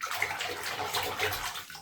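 Doll outfits, including small bikinis, being washed in a tub of water, giving a continuous close sloshing and swishing for about two seconds with no talk.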